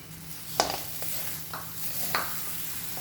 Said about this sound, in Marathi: आता त्याच्यामध्ये हा आपण असा गूळ घालूया